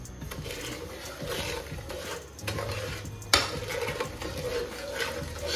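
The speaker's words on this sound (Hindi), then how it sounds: "अब इसमें ये चीनी डाल देंगे और इसको करेंगे मिक्स।" A spoon scrapes and stirs through zarda rice with sugar in a cooking pot, giving repeated close scraping and clinking strokes with a faint sizzle underneath and one sharper knock.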